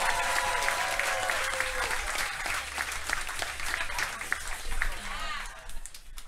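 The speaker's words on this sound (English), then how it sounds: "Guys, nice round of applause for Chelby Morgan!" Audience at a comedy roast battle in Houston claps steadily after a roast set, the applause dense and sustained with some cheering and a voice or two over the top before it thins out near the end.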